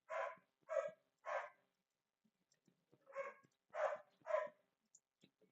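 A pet dog indoors barks in two clusters of three, each bark a crisp, moderately loud yap, separated by a quiet pause with faint ticking sounds between.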